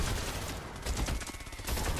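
A Candy Corn LMG in Fortnite Save the World fires a steady stream of rapid, soft-edged shots that pulse evenly through the whole stretch, with no talking.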